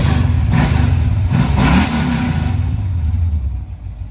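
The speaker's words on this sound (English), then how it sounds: "Nice, quick, snappy revs." Quick, snappy revs from an El Camino engine with Jegs long-tube headers, deep, throaty exhaust rising and falling close by before settling back toward idle.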